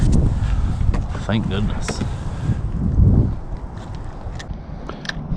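Steady wind buffets the microphone on a Hobie saltwater kayak while fishing for snook in Matlacha, Florida, a loud rumbling rush throughout, with someone talking briefly and some water and gear sounds.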